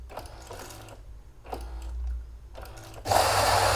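A Melitta Barista TS coffee machine starts brewing with the bean hopper shutter removed, giving intermittent mechanical whirring and clicking bursts over a low motor hum, then a louder, sustained grinding roar near the end.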